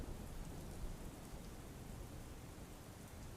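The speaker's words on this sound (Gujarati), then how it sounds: "ચલાલા, વાવડી, ગરમલી સહિતના વિસ્તારોમાં વરસાદ નોંધાયો છે।" Heavy monsoon rain pours down steadily over the rural area near Chalala in Dhari, Amreli, as a dense, continuous hiss with no pauses and no voices.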